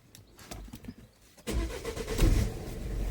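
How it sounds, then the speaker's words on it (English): A 2017 Peugeot 3008 engine cranks and catches after a quiet moment, then settles into a steady idle close by during DPF cleaning work, with faint birdsong in the background. "start the engine"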